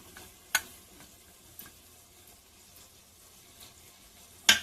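Tomato pieces fry on high flame for a mushroom curry, with a faint low sizzle and a few sharp stirring clacks against the pan.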